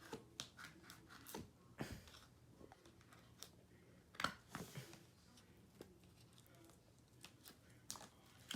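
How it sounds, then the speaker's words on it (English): A knife cuts and scratches through plastic wrap on an M1 MacBook Air 2020 box, giving faint, irregular close scrapes and crinkly ticks spread over several seconds. "I'll be using this knife to cut open the plastic."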